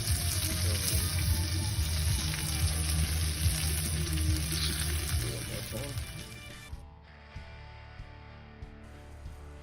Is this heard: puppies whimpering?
no